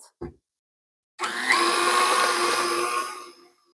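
An electric mixer runs for about two seconds, whirring steadily as it beats orange-peel bundt cake batter, then winds down; a brief knock comes first, with no talking.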